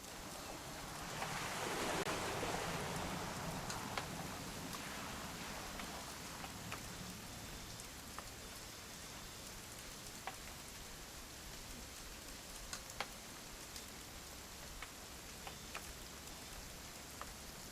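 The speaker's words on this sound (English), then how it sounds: "It's gonna rain the whole weekend, isn't it?" Rain falling in the video game What Remains of Edith Finch, a steady, faint patter with occasional soft drip ticks, continuous throughout with no voices.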